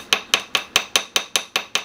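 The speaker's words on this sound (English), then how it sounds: "I use a little finishing hammer here" A small finishing hammer taps a sterling silver ring shank flat on a metal surface: eight sharp, evenly spaced metallic strikes in a steady rhythm, close and clear with no talking.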